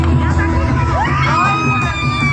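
Dense crowd cheering and whooping at an award ceremony, a loud continuous roar of many voices with shouts rising above it throughout.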